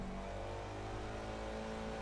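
Four-cylinder turbocharged Ford Mustang EcoBoost, upgraded to about 330 horsepower, in the racing game Forza Motorsport: a steady, loud engine drone holding a sustained rev with no break, alone, with no talk.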